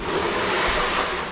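Water pumped from a 7-gallon jug into an indoor off-grid tank, a steady close rushing, splashing flow that runs unbroken and fairly loud throughout.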